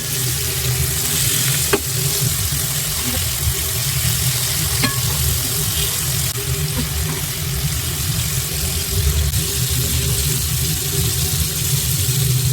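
Chicken pieces fry in oil over low heat, with a loud continuous close sizzle and a couple of faint clinks, and no talk.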